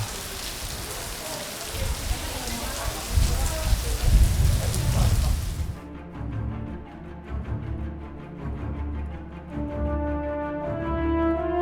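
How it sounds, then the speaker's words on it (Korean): Heavy rain pours down in Ayala, Cebu, Philippines, a dense, loud hiss of drops drumming on surfaces for about six seconds before it cuts off and music with steady tones takes over. "비가 엄청 오네"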